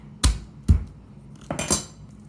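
Two sharp thuds of a knife blade striking a cutting board, followed by a quick pair of softer crushing knocks as garlic cloves are smashed, close up with no talking.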